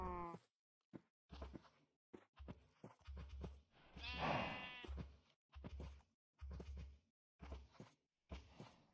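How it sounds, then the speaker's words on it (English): Sheep bleating in the Minecraft video game, a string of short bleats and groaning calls repeated in quick bursts with brief silences between, fairly close and clear with no talk over them. "I think that's a sheep over there."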